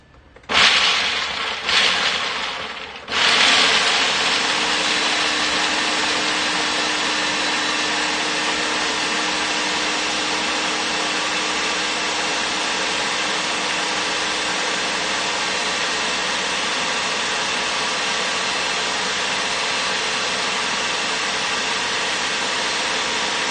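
A food processor grinds macadamia nuts into fine crumbs, starting with a few short pulses and then running as a loud, steady, continuous whir with no pauses.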